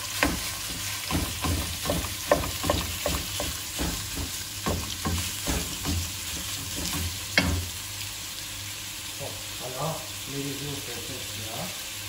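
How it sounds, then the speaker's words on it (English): Minced beef is stirred in a cooking pot for Iraqi kubba, with a spoon scraping in repeated rhythmic strokes over a soft sizzle, then slowing to lighter, sparser stirring toward the end. "And she begins to stir it."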